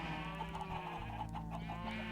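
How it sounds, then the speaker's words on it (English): Chickens clucking in a blocky Minecraft-style game farm, a steady run of short repeated clucks over a constant background drone, with no voices. "So you can see here we have the chickens there"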